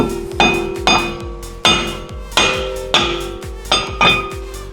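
A hammer strikes a brake disc on a 2017 Kia Picanto repeatedly at a steady pace, each blow ringing with a bright metallic resonance that decays before the next hit.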